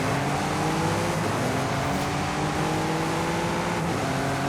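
A Cadillac engine in Forza Horizon 5 pulls hard and accelerates steadily, its rising drone loud and close, no voices over it.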